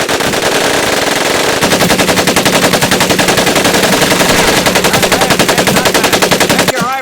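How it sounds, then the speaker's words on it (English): An automatic weapon in the video game Medal of Honor Pacific Assault fires loudly and up close, a rapid, continuous rattle of shots that runs for several seconds before cutting off sharply. "Take your time to aim and fire the weapon in short bursts only."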